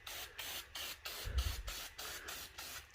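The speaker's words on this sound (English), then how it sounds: "got aircraft paint remover in an aerosol can" Aircraft paint remover hisses from an aerosol can in a series of short, close bursts separated by brief pauses, with a low thump partway through.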